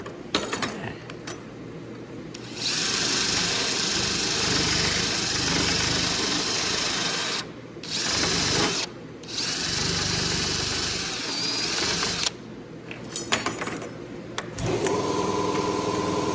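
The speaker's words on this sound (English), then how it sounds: "You can hear the air compressor hammering away there." An air compressor hammers away in a home workshop, a loud, steady mechanical chugging that cuts out briefly several times before starting again, with no speech.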